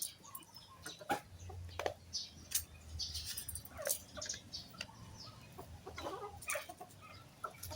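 Chickens cluck softly nearby while eating, with scattered pecking and scratching sounds, steady and busy, in a quiet outdoor setting.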